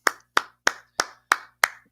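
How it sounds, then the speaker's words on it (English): Six sharp hand claps in an even, steady rhythm, close and crisp, each clap ringing briefly before the next, with no voices. "Yo, clap it up"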